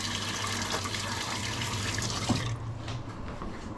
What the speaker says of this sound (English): Now I'm just going to rinse this.